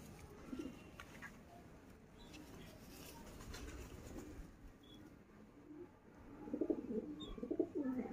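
Teddy pigeons coo in soft, low, rolling bursts, with a quieter call early and louder repeated cooing near the end, over faint background hiss.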